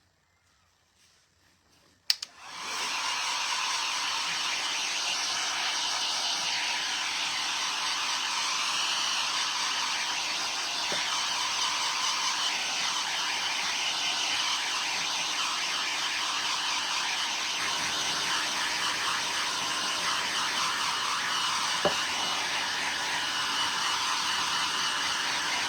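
Hair dryer blowing on a painted wood craft piece: it clicks on and then holds a steady, even whoosh of airflow for over twenty seconds without any talk.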